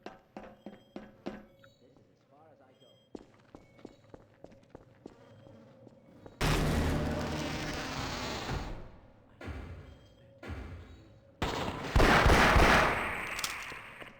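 Glock pistol in Half-Life: Source, with quick light clicks and steps at first, then louder sustained bursts of gunfire and clatter that stay close and loud.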